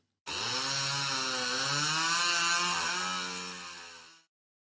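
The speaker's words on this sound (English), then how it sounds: "the salesman takes the chainsaw and starts it up to see what's wrong" A chainsaw roars to life and runs at a steady, loud buzz, its pitch dipping and rising slightly before cutting off.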